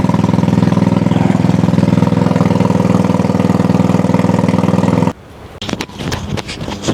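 A motorcycle engine idles with a loud steady rumble close by, then cuts off abruptly, leaving quieter scuffs and handling noises.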